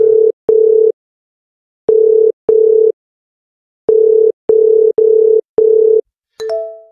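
A telephone ringback tone pulses in short, even beeps, mostly in pairs with pauses between groups, loud and clean, followed by a brief click as the call connects.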